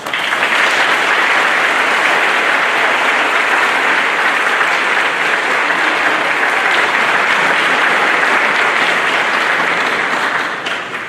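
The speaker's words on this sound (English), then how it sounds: "We could give them a round of applause." Audience at a National Honor Society induction ceremony breaks into loud, dense applause that holds steady for about ten seconds before tapering off at the end.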